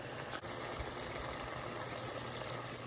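Water is poured off a pot of boiled, soft potatoes, giving a steady, close, continuous gushing wash of liquid that holds level for a few seconds with no voices.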